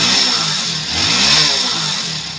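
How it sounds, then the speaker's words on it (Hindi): Hero Splendor 2024 BS7 E20 motorcycle engine revved with the throttle, a mid-pitched putter that rises and falls in a couple of swells while running close by, with no talk. "थोड़ा बहुत मैं बाइक का थ्रोटल लेकर दिखाऊँ आपको।"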